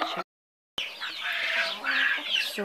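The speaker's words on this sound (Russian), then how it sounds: "Цыплята кричат" Young chicks cheeping on a rural plot, a busy cluster of high, overlapping peeps close by, broken by a short dropout near the start.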